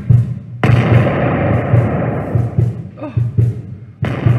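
Artillery battery guns firing in a radio drama, heavy booming thuds landing in quick succession, loud and close, with brief gaps before a final blast.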